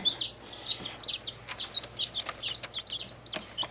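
High, chirpy peeps from young chicks repeat in quick, overlapping bursts, fairly close and lively, with no talking.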